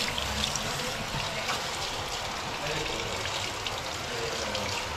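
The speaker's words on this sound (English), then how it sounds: "Okay, so he's just rinsing it out." Running water splashes steadily as hair is rinsed out at a salon basin, a soft continuous trickle and pour, close and fairly quiet, with voices talking over it.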